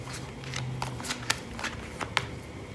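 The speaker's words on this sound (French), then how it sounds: "nous allons recouvrir ces cartes" Tarot cards are handled and laid out on a table, with close riffling and sliding rustles punctuated by a few crisp snaps as cards are flipped and set down.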